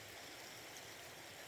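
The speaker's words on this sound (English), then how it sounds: "there's the stream, and then the river" A stream runs beside a campsite in Alaska, giving off a steady, faint, broadband rush of flowing water that holds even throughout with no voices.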